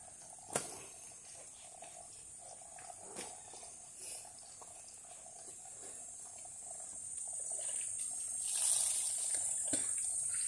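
Water runs steadily into a bucket at an outdoor bathing and laundry spot, a continuous splashing hiss that swells louder near the end, with a few faint clicks and no talking.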